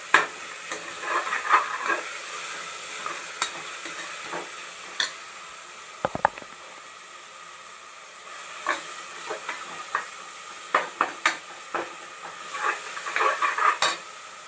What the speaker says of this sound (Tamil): நல்லா தக்காளி, வெங்காயம், இந்த தயிர், இஞ்சி பூண்டு பேஸ்ட்டு எல்லாம் நல்லா மேஷ் ஆகிற அளவுக்கு வதக்குங்க